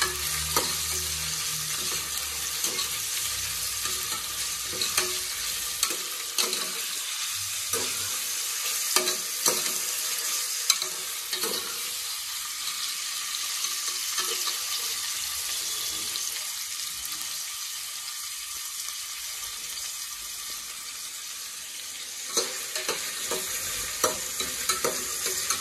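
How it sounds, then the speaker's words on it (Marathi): Chopped onion fries in a pan for a mutton curry, a quiet, steady sizzle broken by repeated scraping and clinking stirs, with no talking. "आता कांदा टाकलेला आहे. आता हे सर्व एकजीव करून घेऊया."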